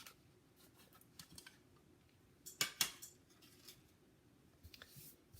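Scissors snip through card pieces for a diamond easel card, a few quiet crisp cuts with two sharper closer snips near the middle, set against a faint low background hum.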